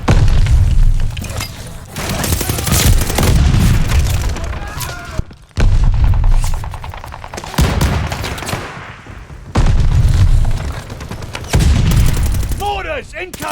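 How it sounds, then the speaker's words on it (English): Mortar explosions and gunfire in a Call of Duty Vanguard battle, loud repeated booms and rattling shots in bursts, with shouted voices over the chaos. "Mortars incoming!"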